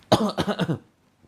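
A single close burst of coughing, several quick rough hacks in a row lasting under a second, followed by quiet.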